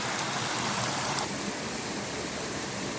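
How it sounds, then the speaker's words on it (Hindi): Continuous rushing rainwater, a steady broadband wash of runoff pouring down a hillside toward a lake in Rwanda, fairly close and unbroken for the whole stretch. "जो पानी की आवाज़ आ रही है"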